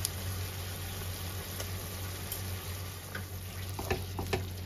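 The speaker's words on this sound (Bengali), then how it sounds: "এবার পোস্তটা ভালো করে লাউয়ের সাথে মিক্স করে নেব।" Poppy seed paste and turmeric are stirred into bottle gourd in a pan, giving a steady soft sizzle with a few sharp taps from the spoon near the end.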